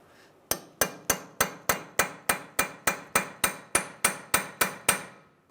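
Steel hammer blows drive a fine point chisel against an axle nut on a 2007-2015 Mazda CX-9 during CV axle replacement: about seventeen sharp, ringing metallic strikes in a steady, even rhythm, close and clear with no talk.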